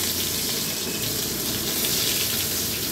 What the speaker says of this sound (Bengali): রসুন কুচিটা একটু ভেজে নিয়ে